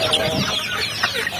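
Several KUB chickens clucking and squawking close by in a short, busy burst, crowding around food.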